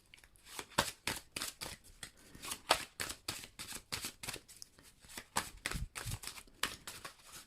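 Oracle cards from the Earth Magic deck are shuffled by hand, giving a close, steady run of soft, rapid flicks and riffles over several seconds with no talking.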